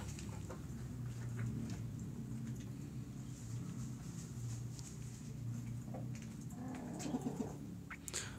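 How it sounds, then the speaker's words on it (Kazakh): Young chickens in a coop, soft clucks and scratching over a low steady hum, with faint scattered peeps and a few sharper calls near the end. "Мынау жас тауықтар ғой."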